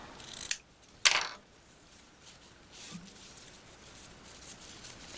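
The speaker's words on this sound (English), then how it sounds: "Tighten it and go ahead and trim your tails." Scissors trim the ribbon tails of a freshly tightened two-colored double-tailed bow, with two sharp, close snips in quick succession followed by quiet handling.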